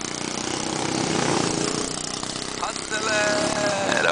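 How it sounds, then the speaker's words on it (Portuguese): Go-kart engines at a kart race, buzzing and whining at mid distance under excited crowd talk and shouting, with pitch rising as a kart accelerates near the end. "Nós estamos aqui assistindo a corrida de kart"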